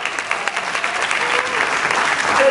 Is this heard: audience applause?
yes